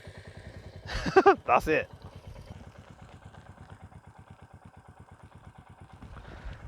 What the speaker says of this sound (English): Let's start the bike. Listen to this nice inoffensive startup.